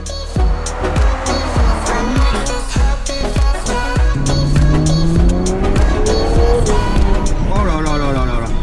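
Ferrari 812 Superfast V12 sports car driven hard, engine revving loudly in repeated sharp bursts with gear changes, rising howls and tyre squeal, close and aggressive throughout.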